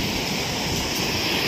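Sea waves break at a beach in Sindhudurg, a continuous rushing surf wash mixed with wind, steady and fairly loud with no voices.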